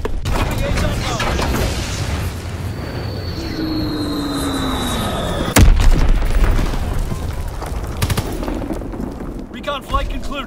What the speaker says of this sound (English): Dropping Azon bomb.